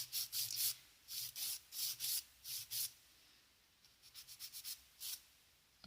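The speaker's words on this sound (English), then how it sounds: "I'm going to go ahead with my 100 grit side and just file that" A 100 grit nail file scrapes across a sculpted gel nail in short, soft rasping strokes, a faint, close-up series of evenly spaced rubs, then quicker, lighter passes before a final stroke.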